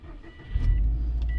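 A car rumbles along with a deep, steady low drone, close and fairly loud, no voices.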